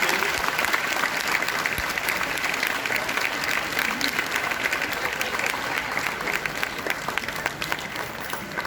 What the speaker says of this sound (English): Can you give a round of applause for all our teachers?